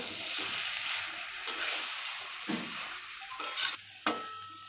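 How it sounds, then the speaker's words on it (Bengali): A spoon stirs cabbage curry with fish head in a pan, making soft scraping sweeps over a steady low sizzle, punctuated by a few light metallic taps. "আবারও খুব ভালোভাবে মিক্সড করে নেব"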